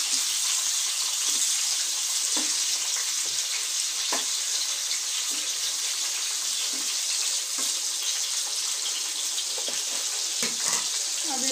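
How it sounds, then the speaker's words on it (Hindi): Bitter gourd (karela) frying in a pan, a steady, dense sizzle and crackle holding at even loudness throughout, with small scrapes and pops scattered through it. "अब इसको ढक करके पकाएंगे देखिए इसको पलट देते हैं"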